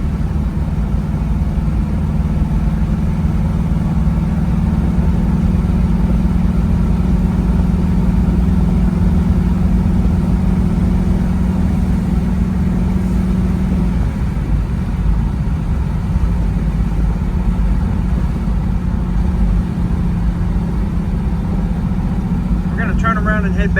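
A Chevrolet Camaro RS SS 396 V8 rated at 375 HP runs steadily, a low continuous engine rumble heard from inside the moving car with someone talking over it throughout.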